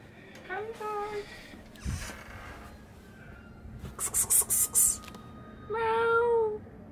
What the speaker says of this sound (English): Oh, cat. Cat. Coming, cat.